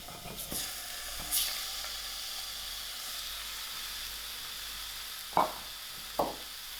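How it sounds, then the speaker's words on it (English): Mince frying in a pan with a little oil alongside vegetable stock, a steady close hiss and sizzle with occasional clattering stirs and scrapes, no talking. "And now I'm ready to throw in my mince."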